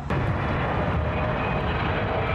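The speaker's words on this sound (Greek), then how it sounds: "Επισοδιακή προσγείωση και μια πτήση τη Air Canada στο αεροδρόμιο Πέρσον του Τωρόντο στον Καναδά" An Air Canada airliner landing in strong crosswinds at Toronto Pearson airport gives a loud, continuous engine roar with broad rushing noise, steady throughout and without voices.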